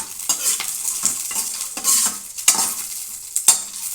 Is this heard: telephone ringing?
no